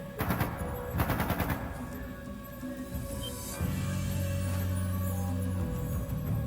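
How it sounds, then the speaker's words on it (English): Two rapid bursts of automatic gunfire, followed by a low droning hum, in the video game Trails of Cold Steel II. "That didn't sound good. That sounded like gunfire."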